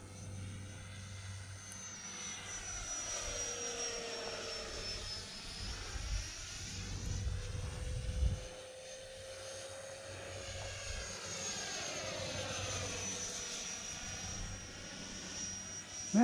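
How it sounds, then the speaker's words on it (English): Distant Army helicopter passing overhead on a partly cloudy day, a steady droning rotor and engine hum that swells and fades slowly over about sixteen seconds, with no talking. "Man, I hear an Army helicopter today."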